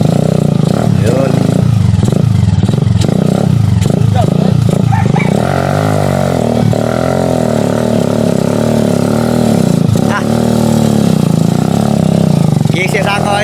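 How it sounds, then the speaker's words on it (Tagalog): A motorcycle hauling a load of sand runs steadily throughout, its mid-pitched engine droning and shifting tone as it idles and pulls, with people talking over it. "nag-drive sa motor. Karga balas."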